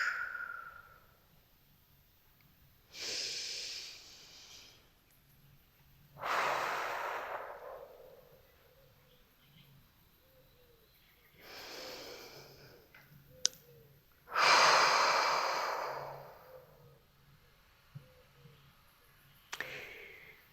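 Slow, deep breaths during a vinyasa yoga class focused on glutes, core and hips: five long airy inhale-exhale swells spaced several seconds apart, close and soft, with quiet gaps between and no talking.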